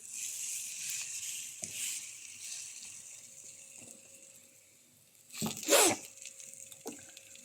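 Breakfast snacks frying in hot oil until reddish, a steady soft sizzle throughout with a louder, brief spitting burst near the end; no talking.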